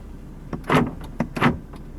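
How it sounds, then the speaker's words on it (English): Central locking on a 2016 Jeep Grand Cherokee 3.0 V6 CRD Summit: two quick mechanical clunks of the door locks actuating in succession, close and fairly crisp, with no one talking. "Central locking."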